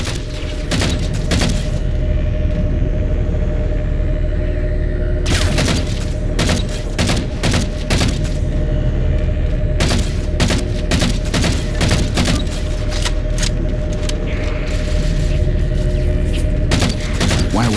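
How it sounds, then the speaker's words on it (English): Heavy gunfire pounds a ship's starboard side in the shooter game Halo 4, a loud, continuous barrage of rapid shots, booms and impacts that keeps going for many seconds over a constant rumbling background. "Taking fire, starboard side!"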